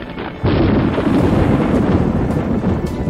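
A loud, rolling thunder crash bursts in suddenly and rumbles on heavily through a storm, heard with no voices in a dramatic indoor night scene.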